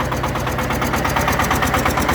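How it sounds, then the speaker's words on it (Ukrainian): A Shifeng SF-350L belt-driven mini tractor with forced hydraulics runs at a steady idle while its hydraulic lift raises, a close, even, rapidly pulsing engine chug throughout. "Ось такий от ремінний тракторець нового зразочку з примусовою гідравлікою."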